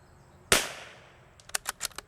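A single sharp rifle shot from a Ruger Precision Rifle at a shooting range, loud and close with a decaying tail, followed by a few faint quick metallic clicks.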